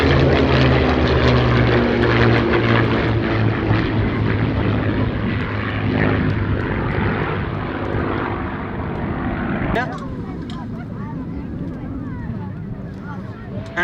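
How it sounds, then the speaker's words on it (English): A P-47 Thunderbolt and two Mustang fighters fly over at an airshow with a loud propeller engine roar that slowly fades, a commentator talking over it throughout. "Here come the fighters once more, P-47 and 2 Mustangs."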